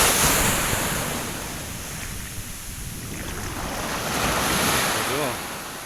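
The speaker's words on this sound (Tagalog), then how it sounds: "Diyan lang malakas na alon." Strong ocean waves surging and washing up on a resort beach, a loud continuous roar of surf mixed with wind buffeting the microphone.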